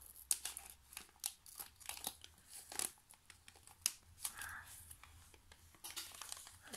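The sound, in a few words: opening advent calendar box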